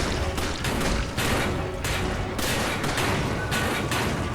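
Rapid bursts of gunfire in Resident Evil 5, loud close shots fired in quick irregular volleys with brief gaps between them.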